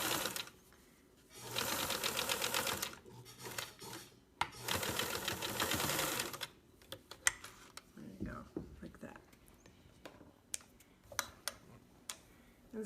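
A sewing machine stitches fabric, running in two loud, rapid mechanical bursts of a few seconds each, then stopping, with softer clicks and handling noises and a person talking in between.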